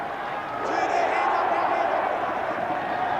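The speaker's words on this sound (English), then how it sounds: "There's the crowd warm-up for St Greg's" Crowd noise from St Gregory's College supporters warming up at a schoolboy rugby league cup match, a broad sustained roar of voices and cheering that swells after the first half second and stays steady and loud.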